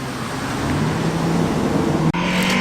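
A Mark 1 Ford Cortina historic rally car drifts across a skid pan, its engine holding a steady, loud drone that drops out for an instant and then resumes.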